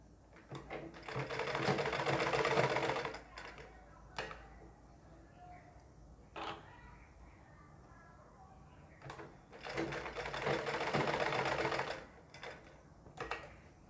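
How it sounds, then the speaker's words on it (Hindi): A sewing machine stitches fabric for a ladies' suit sleeve in two loud, steady bursts of rapid mechanical chatter, with quiet handling sounds and brief clicks between them. "इस साइड को इस तरह मशीन के अंदर सुई कपड़े के अंदर डालते हैं और इसे फिर ऐसे घुमा देते हैं"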